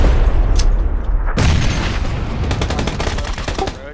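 Grenade blasts and gunfire in a battle royale video game: loud booming detonations and then a rapid string of close shots that carries on to the end.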